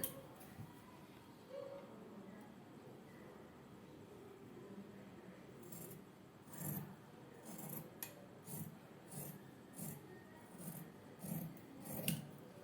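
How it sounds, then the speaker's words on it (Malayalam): Scissors cut through fabric for the back neck of a nighty, producing faint, close snips that fall into a regular rhythm of crisp cuts in the latter half over quiet room noise. "ആദ്യം നമുക്ക് ബാക്ക് നെക്കാണ് കട്ട് ചെയ്യേണ്ടത്."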